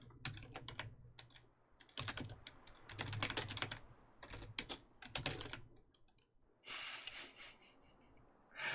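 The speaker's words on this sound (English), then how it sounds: "I actually have to type it as well." Rapid bursts of typing on a computer keyboard come in clusters of clicks with short pauses between them, close and fairly quiet, with a soft breath near the end.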